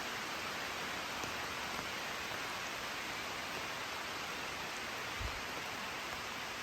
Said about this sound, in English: But it's a downpouring